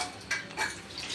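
Metal ladles and cooking vessels clatter against each other while being washed in a kitchen, a brief burst of close clanks and scrapes with a wet edge.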